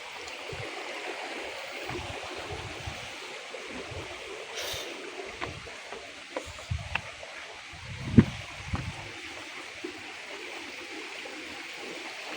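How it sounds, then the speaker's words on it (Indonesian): The Sungai Sepaeh river flows along a slippery path, a constant broad wash of moving water with scattered small splashes and knocks, moderately near and fairly quiet, with no talking. "ini suaranya berisik kena campur air"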